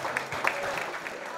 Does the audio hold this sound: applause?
yes